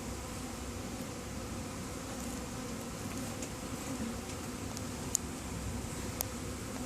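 Honeybees drone steadily around a newly occupied hive in a bee garden, a faint continuous buzz with no talking over it.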